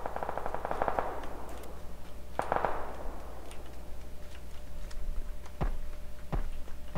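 Gunfire in the video game PUBG, several sharp but fairly distant shots cracking at irregular intervals over a low steady background, with no talk.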